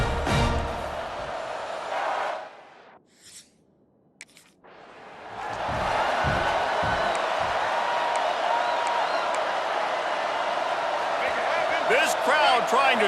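Stadium crowd roaring in College Football 26 at a packed home game, a loud steady wash of cheering that drops out briefly and then swells again, with announcers talking over it.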